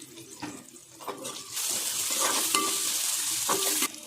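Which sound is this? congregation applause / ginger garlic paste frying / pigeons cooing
ginger garlic paste frying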